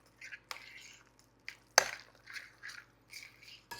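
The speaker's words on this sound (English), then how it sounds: "I'm going to mix it together." Manicotti filling of ricotta and seasonings being stirred in a bowl, giving soft, wet squishing and scraping strokes in short bursts with a few sharper clinks of the utensil against the bowl, close and fairly quiet.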